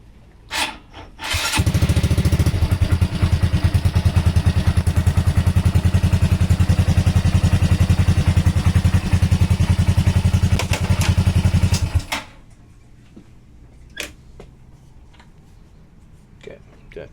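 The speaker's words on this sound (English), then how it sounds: "now we're gonna fire up the bike and put the bike in gear" Honda MSX 125 Grom motorcycle engine firing up after the ABS module is disconnected, a loud close single-cylinder idle that runs steadily for about ten seconds and then cuts off, with a few clicks and knocks around it.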